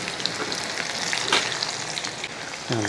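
Shallots, fenugreek and red chillies frying in hot oil for a Kerala pulissery tempering give a steady, close crackling sizzle with small spitting pops, no voices.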